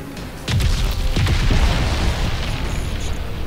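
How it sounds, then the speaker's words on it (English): Gunfire from enemy soldiers in the shooter game Crysis 3, heard as a sustained barrage of heavy booming shots and bursts that rolls on continuously after a sudden start, loud and dense throughout. "Wow, they're just shooting randomly"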